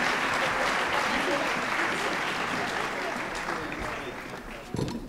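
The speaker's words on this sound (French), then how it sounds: "on peut encore vous applaudir" Applause from a conference audience at a prize ceremony, a dense steady clapping that holds loud and then tapers slightly toward the end, with voices faintly underneath.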